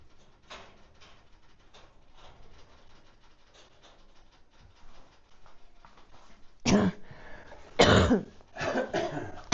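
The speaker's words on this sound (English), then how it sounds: "Can't wait to get rid of this cough." Quiet scuffling and rustling give way to a few loud, harsh coughing bursts near the end, close by and clearly audible.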